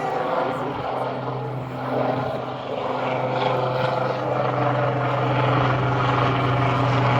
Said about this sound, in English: We got a noisy helicopter going over.